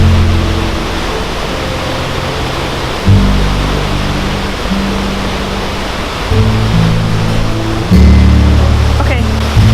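A waterfall rushes in a dense, steady roar close by, with low rumbling bursts that swell and fade as the microphone shifts.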